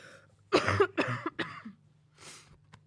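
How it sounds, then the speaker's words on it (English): Several close, raspy coughs in quick succession from a woman at a postgame press conference, followed by a softer breathy throat sound, in a quiet room. "I am trying not to cough."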